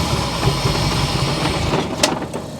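A Corvette C4 ZR-1 engine from a barn-find restoration runs unevenly and won't rev cleanly, giving a close, loud, continuous mechanical drone with light clattering and a short sharp click near the end.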